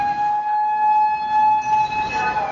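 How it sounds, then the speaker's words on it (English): Civil defense tsunami warning siren in a Japanese coastal town, a steady sustained wailing tone held throughout, loud and continuous. "This footage captures the moments after the sirens sounded."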